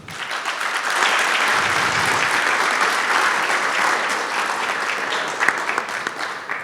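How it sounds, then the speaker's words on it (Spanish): Warm, sustained applause from an audience at a panel discussion on autism welcoming a speaker named Gabriela, even clapping that swells quickly and holds steady for several seconds. "Un fuerte aplauso para Gabriela"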